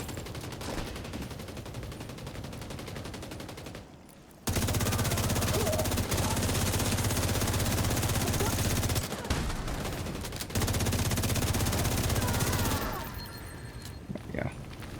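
Heavy, sustained automatic gunfire in a video game against an armored hostile, loud and nearly continuous, broken by a few brief pauses, with voices talking over it at times.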